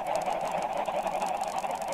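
Chickens from a mob spawner in Minecraft Bedrock Edition cluck in a dense overlapping flock, a continuous loud chorus of bird calls heard close without talk.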